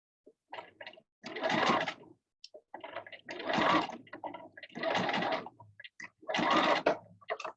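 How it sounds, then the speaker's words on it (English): A sewing machine stitches the gusset of snow pants in four separate bursts of rapid, buzzing mechanical runs, each lasting about a second, with short clicks and handling sounds of fabric being lined up between them. "so we'll sew the gusset down on this side"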